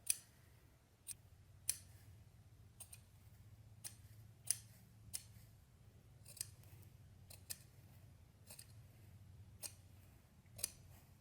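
Scissors make small, quick snips through sheepskin shearling, a sparse run of faint, sharp clicks spaced about a second apart over quiet room tone.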